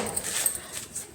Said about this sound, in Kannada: ತಿಂತೈತೆ ನಾಯಿ.